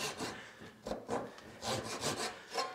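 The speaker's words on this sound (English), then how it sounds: "I'm just literally looking down the blade to line that angle up, and I start sawing." A hand saw rasps through wood in uneven back-and-forth strokes, close by, each pass a scratchy rush with short pauses between.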